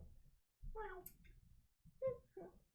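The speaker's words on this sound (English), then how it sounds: "You hear a contented little meow." A soft, content cat meow, close and quiet, followed by a second gentle meow after a short pause.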